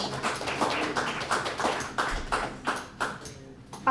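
Audience applause at an indoor open mic night, a run of sharp, fairly close claps and taps rising and falling over a few seconds, with faint voices underneath.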